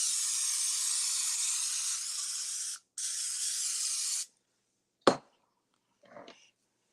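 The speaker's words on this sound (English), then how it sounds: "Now I'm going to spray." Cooking spray hisses from a can in two long steady bursts with a short gap between, sprayed onto a pan for peach cobbler with biscuits, followed by a sharp tap and a faint rustle.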